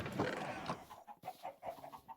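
Chickens clucking on a chicken farm in Minecraft, a run of short, close, rhythmic clucks following a louder burst of mixed game noise at the start.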